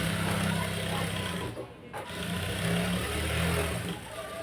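A sewing machine runs up thread piping along a fabric edge, its motor whirring in fast steady bursts with a brief pause midway, close and fairly loud.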